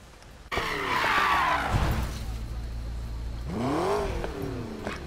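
A McLaren P1 race car in Need For Speed Payback skids with a loud, sustained tire squeal and engine roar, the pitch sweeping as the car slides, then the engine revs rising again near the end.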